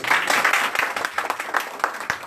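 An audience claps in dense, lively applause at a hairdressing school's diploma ceremony and show, a close, steady patter of many hands through the whole stretch.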